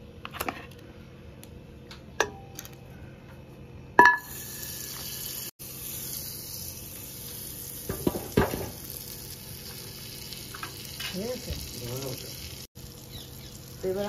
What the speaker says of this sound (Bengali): এখন আমি কুকারে বাটার দিয়ে দিচ্ছি।